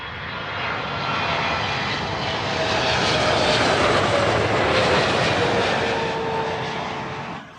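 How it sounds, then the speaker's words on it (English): A Qatar Airways Boeing 777-300 arriving at Heathrow from Doha passes overhead with a swelling jet-engine roar that builds, peaks midway with a faint whine, then fades gradually, unaccompanied by voices. "Next in, when it appears from behind the treetop, Qatar Flight 1 from Doha, this one a 777-300."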